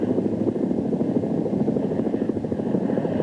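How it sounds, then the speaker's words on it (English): Helicopter flying low and slow, a steady rotor thrum with rhythmic blade chop, fairly loud and continuous throughout with no talk. "The helicopter does its part, too."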